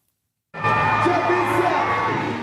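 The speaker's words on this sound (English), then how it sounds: "Massive crowds have again packed the showgrounds for day 2 of the Melbourne Royal Show" A large crowd fills the Melbourne Royal Show showgrounds, heard as a loud, dense roar of voices and cheering that starts suddenly and holds steady for two seconds.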